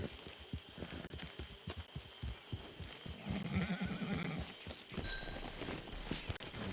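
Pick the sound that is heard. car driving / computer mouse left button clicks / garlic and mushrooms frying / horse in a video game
horse in a video game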